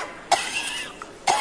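Two sharp, close coughs, spaced about a second apart, with a faint vocal sound in between.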